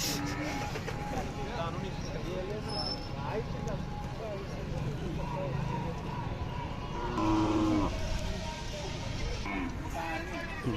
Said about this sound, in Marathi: अशा प्रकारच्या खिल्लार गाय आलेले आहेत.